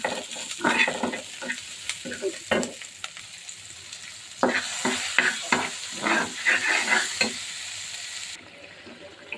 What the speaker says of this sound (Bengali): পাঙাশ মাছ ভোনার জন্য পেঁয়াজ মরিচ দিয়ে দিচ্ছি।